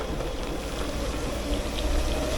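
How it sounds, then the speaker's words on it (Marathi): Steady rain falls outdoors in Rajapur near a roadside weekly market off Highway 66, a dense, even hiss of drops with no voices and no break for the whole stretch. "तर आता पाऊस पडायला लागला आहे"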